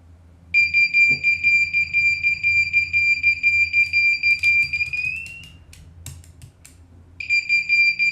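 An old smoke detector dated May 2007 beeps steadily after being connected, giving a loud, rapid, high-pitched pulsing tone that breaks off partway, leaves a short gap with faint clicks, then starts again.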